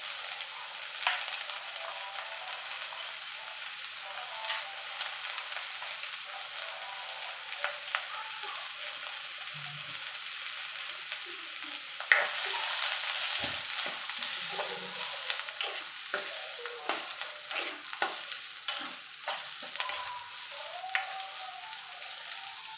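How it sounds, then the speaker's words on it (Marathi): Onion fries in a pan with a soft, continuous sizzle while a spoon scrapes and stirs in irregular clicks and swishes, growing busier partway through, with no voices. "आता याला आपल्याला चांगल्या प्रकारे भाजून घ्यायचा आहे, चांगला लालसर होईपर्यंत."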